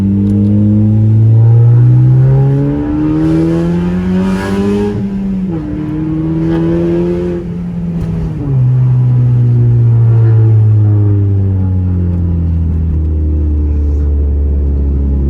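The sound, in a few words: car driving and accelerating through gears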